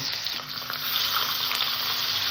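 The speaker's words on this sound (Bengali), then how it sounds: "তেলটা গরম হয়ে গেছে আমি মাছ দিয়ে ভেজে নেব" Khoira fish rubbed with salt and turmeric fry in hot oil in a kadai, making a bright, continuous close sizzle that grows slightly louder partway through.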